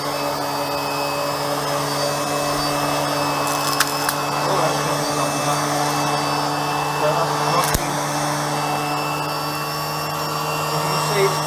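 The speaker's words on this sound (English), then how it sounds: "as you can hear the whirring noise, you can see that the brushes are going round" A Vax Power 5 Pet vacuum cleaner runs with its brushes spinning, giving a steady close whirring drone with a high tonal whine and faint occasional knocks.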